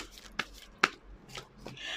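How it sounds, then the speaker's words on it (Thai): A tarot card is turned over during a card reading: several soft, brief papery flicks and taps spaced across a couple of seconds, close and quiet, with no talking. "จะเปิดไพ่เพิ่มให้อีก1ใบ"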